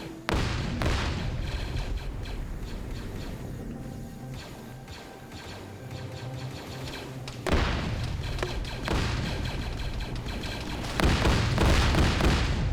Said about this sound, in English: that's the radiation cannon going at work